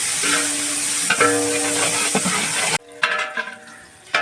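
Coriander is sautéed in a large pot for a 6 kg batch of mutton dum biryani, loud sizzling with stirring scrapes that drops off abruptly partway, then resumes more quietly.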